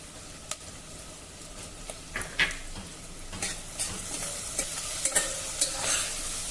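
Onion with crushed ginger and garlic sautéing in a pan: a soft, continuous sizzle with scattered scrapes and taps of a spatula stirring the mixture.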